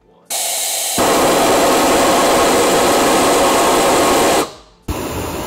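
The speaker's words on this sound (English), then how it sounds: "we can either get the red kind of jet flame" A homemade flamethrower fires a jet flame in a loud, sustained roaring hiss of about three and a half seconds. A shorter lead-in burst comes before it and a quieter hiss follows.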